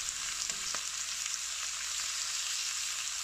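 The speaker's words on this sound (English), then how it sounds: "With all sides seared, the lean meat won't lose its juice during the braising." Pork belly sears in a casserole with a dense, even sizzle, a loud close frying hiss that stays constant throughout without any voices.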